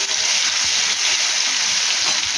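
Ingredients hit hot oil tempered with black cumin for a bottle gourd and coriander leaf dish, producing a loud, steady hissing sizzle close by, with faint stirring clatter underneath.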